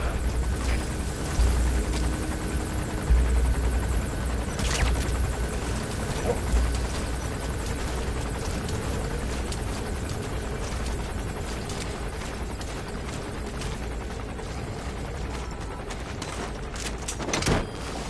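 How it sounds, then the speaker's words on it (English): An arms dealer's patrol helicopter in Metal Gear Solid V, a continuous rotor thrum and whine hanging steadily overhead for the whole stretch, with a few sharp knocks and bursts breaking through. "Looks like the arms dealer's chopper is gonna patrol for the security forces."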